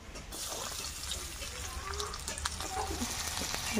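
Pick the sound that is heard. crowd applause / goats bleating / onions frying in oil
onions frying in oil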